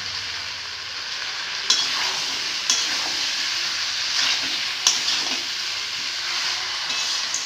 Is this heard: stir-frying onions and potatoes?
yes